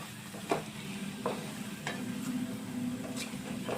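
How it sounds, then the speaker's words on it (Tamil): Okra and potato masala sautéing in a pan: a steady low sizzle runs throughout, broken by a few sharp scraping stirs about every second and a half, close and moderately loud, with no voices. "நம்ம சேர்த்துட்டு மசாலாவெல்லாம் கொஞ்சம் ட்ரை ஆகிற அளவுக்கு இதை வதக்கி எடுத்துக்கலாம்"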